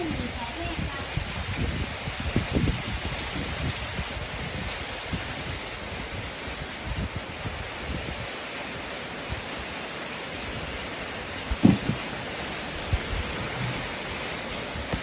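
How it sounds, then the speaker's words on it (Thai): Heavy rain falls steadily in a rural farm setting, a dense continuous hiss throughout, with someone speaking over the downpour now and then. "ฝนมาแล้วฝนมาแล้วเยอะ"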